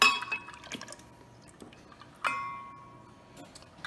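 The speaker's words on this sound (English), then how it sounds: "let's start with our cup of heavy cream" A cup of heavy cream is poured into a blender for homemade Irish cream liqueur. Sharp glassy clinks and a brief splash of liquid ring out between quiet pauses, close and without talk.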